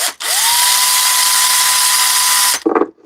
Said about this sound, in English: I'm running the drill backwards on purpose to try to countersink this hole a little bit